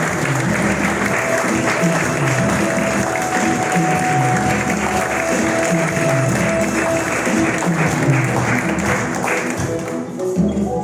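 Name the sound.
church congregation applauding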